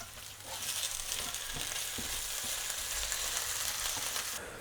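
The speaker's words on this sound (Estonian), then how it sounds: "kartulit panni peal rahulikult veel seal küpsevad, praevad" Potato slices fry steadily in a pan, a continuous sizzling hiss with occasional soft pops and stirring knocks, close and fairly loud throughout with no talking.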